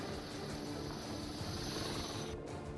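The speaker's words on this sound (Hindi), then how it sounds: "आप देख रहे हैं हेलीकॉप्टर के जरिए कैसे लोगों को रेस्क्यू किया जा रहा है" A rescue helicopter airlifts people by rope during record flooding rains in Gujarat, its rotor and engine producing a steady, loud drone that holds evenly throughout.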